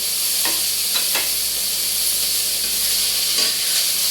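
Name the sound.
food frying and being stirred in a pan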